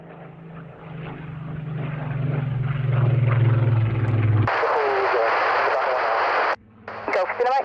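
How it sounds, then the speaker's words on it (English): A formation of 16 Spitfires and 4 Hurricanes passes over Duxford, a low droning piston-engine rumble that builds for a few seconds before radio voice chatter cuts in and dominates. "I do have a large formation of big wing of the Spitfires and Hurricane out in the local area."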